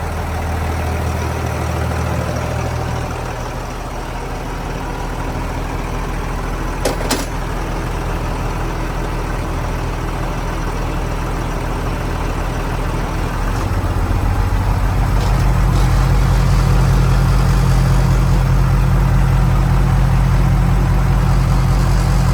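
A boat's inboard engine runs steadily inside its engine room, a loud, continuous low drone that deepens and grows heavier partway through, with no talking.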